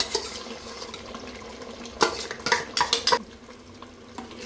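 Mutton curry with freshly added masala gets stirred in a pot. A soft, steady simmer runs underneath while a spoon scrapes and clanks against the pan in a quick burst of strokes midway.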